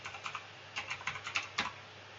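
Keys click on a computer keyboard in a short burst of about a dozen light, quick presses, close and fairly quiet, with no voices.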